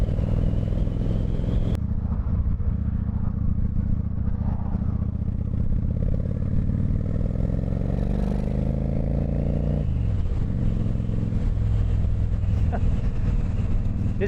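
A Honda VT1100 Shadow Ace cruiser motorcycle engine runs steadily up close, a loud low rumble with a brief rise and fall in pitch near the end.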